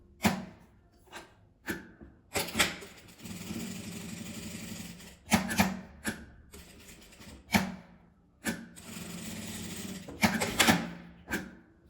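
Sewing machine running in repeated bursts of a few seconds each, stitching the side seams of a small folded fabric coin purse, with short pauses between runs and no talk.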